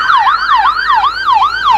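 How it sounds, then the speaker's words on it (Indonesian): A toy ambulance's electronic siren wails up and down in a fast, repeating cycle, loud and close, with no talking over it. "Ada mobil ambulan."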